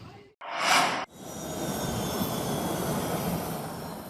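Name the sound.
presidential aircraft at the airport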